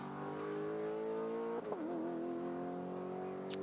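Bulgarian-made GT4 race car with a 6.2-litre V8 engine during qualifying at the Nurburgring. It gives a steady, loud engine drone that briefly dips and wavers mid-clip before settling back into a sustained note.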